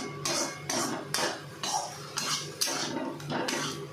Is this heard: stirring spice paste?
yes